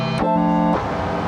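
Elektron Digitone Keys playing a randomized synth patch: a bright, harmonically rich tone with a stable pitch, swelling briefly at the start and end, near and alone with no talk.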